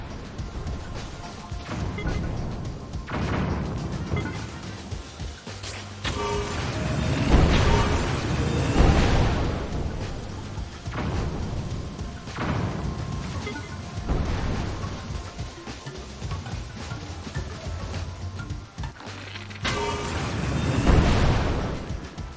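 Repeated explosions from a rocket-driven cruise missile contraption in Zelda: Tears of the Kingdom, loud booming crashes bursting at intervals over a dense, busy game soundscape.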